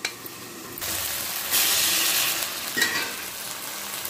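Chopped beans sizzle in hot tempering oil for upma, a steady frying hiss that swells louder partway through, with a few stirring scrapes and no talking.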